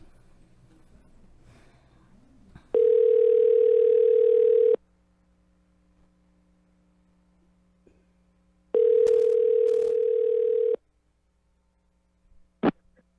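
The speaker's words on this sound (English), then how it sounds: "So yesterday after the show, I called the phone number, and I just want to play this for you guys." A telephone line tone on a recorded call to a political candidate's office: two long, loud, steady tone bursts of about two seconds each, separated by a quiet gap, followed by a short click.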